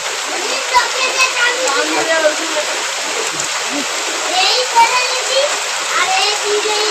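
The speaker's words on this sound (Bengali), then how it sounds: "কত বৃষ্টি হচ্ছে, দেখো সকাল থেকে বৃষ্টি শুরু হয়েছে।" Steady, dense rushing of heavy rain pouring down on a bitterly cold winter day, with splashing water close by and a voice faintly audible at moments.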